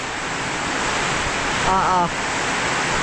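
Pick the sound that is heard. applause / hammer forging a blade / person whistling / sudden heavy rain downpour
sudden heavy rain downpour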